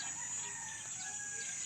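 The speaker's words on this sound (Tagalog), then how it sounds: "May mga native na manok pa dito" Native chickens cluck and call steadily against a constant bright background hiss, with soft rural ambience and no voices.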